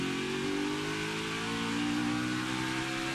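A race car's engine drones steadily on partial throttle at Watkins Glen during a 2022 NASCAR Xfinity practice lap, heard loud and close from onboard with a constant rising tone and no talk.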